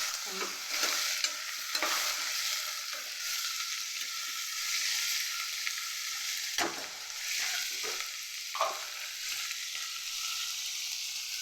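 Onions sauté with salt in a pan until they brown, making a steady bright sizzle broken by several scraping stirs of a spoon against the pan.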